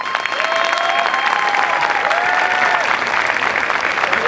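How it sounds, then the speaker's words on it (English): Audience applause at an Air Force Basic Military Training graduation parade, a dense sustained clapping from a large outdoor crowd, loud and even for several seconds with a few whistles over it. "Let me give you a round of applause."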